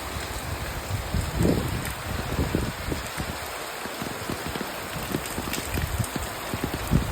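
Steady rain falls and patters on surfaces in a continuous, moderately loud wash, with irregular heavier drips and a light wind behind it.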